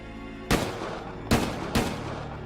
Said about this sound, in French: À l'extérieur, il est abattu de 3 coups de feu.